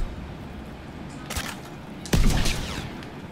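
A landmine goes off in the World War II shooter Call of Duty WW2: one sudden loud blast late in the clip, preceded by a fainter thud, over quiet background.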